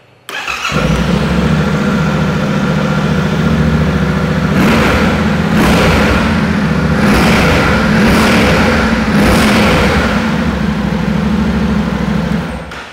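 A 700 cc parallel-twin motorcycle engine with 270-degree firing order cranks and fires up, settles into a loud, lumpy idle, then gets several sharp throttle blips before easing back, recorded up close with no talking.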